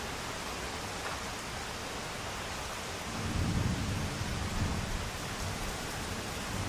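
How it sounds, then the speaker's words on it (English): Steady August rain hisses over a yard while a low thunder rumble rolls in partway through, swelling for a few seconds before settling back under the rain. "A lot of lightning and thunder."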